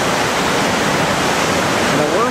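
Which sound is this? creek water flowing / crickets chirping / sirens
creek water flowing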